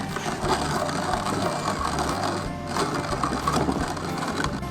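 Coffee beans are ground by hand in a manual grinder, making a continuous close crunching, rattling grind with a slight rhythmic churn from the turning, and no talking.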